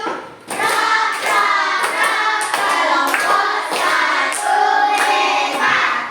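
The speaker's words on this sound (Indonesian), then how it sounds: "sekarang tepuk hebat dulu untuk kelompok 1" A class claps together for group 1, a dense, steady burst of many hands applauding loudly and continuously from start to finish.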